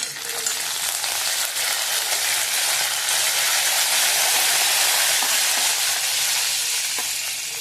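Cumin seeds and curry leaves sizzling in hot oil in a pan, a loud, steady frying hiss that carries through the whole stretch with no talk.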